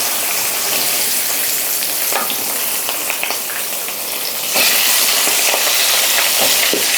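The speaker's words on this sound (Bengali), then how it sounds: "চিংড়ি মাছ বেশিক্ষণ ভাজতে লাগে না, তেলের ওপরে একটু উল্টে পাল্টে নিলেই ভাজা হয়ে যায়" Prawns sizzle in hot oil in a pan, a loud, steady crackling hiss that swells louder about halfway through, with occasional sharper pops and no voices.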